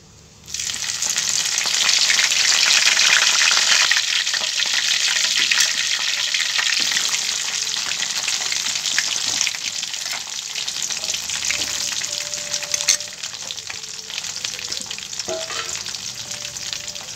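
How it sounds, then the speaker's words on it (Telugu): Sliced onions fry in hot oil for a chicken curry, giving a steady, loud sizzle close up that runs on without a break after a sudden start. "ఉల్లిగడ్డలు కొంచెం దూరగా వచ్చేదాకా వేపుకుంటే బాగా టేస్ట్ ఉంటుంది."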